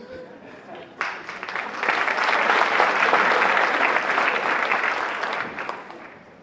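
At a 2014 Faces of Fatherhood luncheon, a room of guests bursts into loud applause after a brief quieter moment, the dense clapping swelling quickly and holding steady before easing off toward the end.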